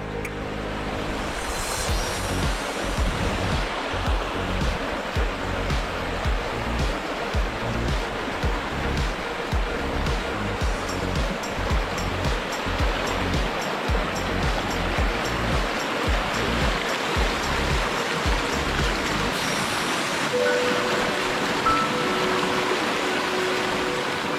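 River water rushing steadily over rocks at a crossing, a loud continuous broadband wash that stays constant throughout and is heard alone, with no voices.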